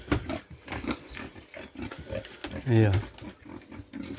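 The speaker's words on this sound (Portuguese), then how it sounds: "Esses são nossos porcos." Pigs grunt and squeal on a small farm, a loud harmonic squeal standing out among shorter grunts while a person talks over them nearby.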